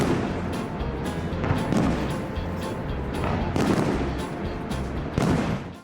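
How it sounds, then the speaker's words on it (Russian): Fireworks burst over Niagara Falls for a long stretch, a steady rumble of repeated booms and crackling pops, several sharper blasts standing out over a continuous roar, heard from a moderate distance. "целых 15 минут над водопадом был салют"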